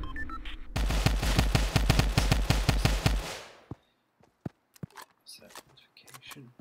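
Rapid automatic gunfire in the Fortnite video game, a burst of about a dozen sharp, loud shots in quick even rhythm lasting over two seconds, followed by a few scattered clicks and thuds.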